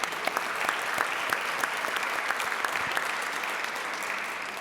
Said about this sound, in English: Let's give Russell a round of applause.